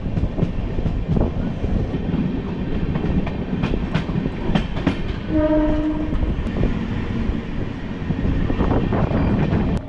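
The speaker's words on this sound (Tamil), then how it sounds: "இப்போ ட்ரெயின் உள்ள என்ட்ரு ஆகுது பெரம்பூர் ரயில்வே ஸ்டேஷன்" A train rolls into Perambur railway station with a continuous heavy rumble and rattling wheels, and a short horn blast sounds partway through, heard from on board.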